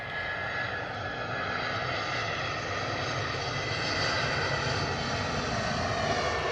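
Airliners on overhead arrival approach at Bristol Airport make a steady, loud, continuous engine roar and whine that holds throughout with no break and no talk.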